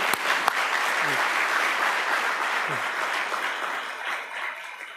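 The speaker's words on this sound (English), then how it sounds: "Please join me in giving an applause for Joey" Audience applause greets Joey Ortiz at the 2018 NYCETC conference: steady, dense clapping from a large crowd fills the whole stretch at a fairly even level, tapering slightly toward the end.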